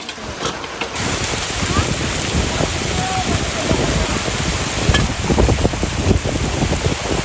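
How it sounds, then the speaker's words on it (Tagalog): Heavy rain pours down in a continuous, loud hiss with gusty surges, and a voice speaks intermittently beneath the downpour. "Lakas na naman ang ulan guys."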